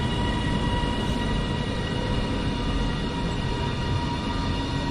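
A Northern Nova diesel passenger train rolls into Bolton station with a steady, loud mechanical rumble and engine drone, with no one speaking.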